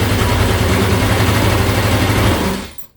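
Close, loud idle of a GY6 scooter engine just after an electric start, a steady rapid low chug that runs evenly before dropping away to silence at the very end.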